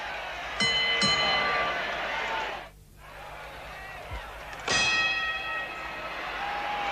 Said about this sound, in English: The bell has sounded for round 4